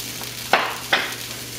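Beef or shrimp searing in a very hot pan for a molcajete dish, giving a steady close sizzle with two sharp bursts of louder crackle as pieces hit the pan or get stirred.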